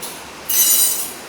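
A spoon scraping the soft cream out of a green coconut, a single short, bright scratching rasp close by that starts abruptly and trails off within about half a second.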